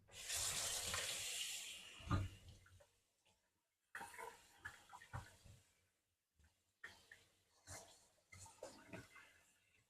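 Tap water runs in a kitchen sink as outer cabbage-like leaves are rinsed, a strong splashing rush for the first two seconds, then fainter intermittent splashes and clatters as the leaves are handled.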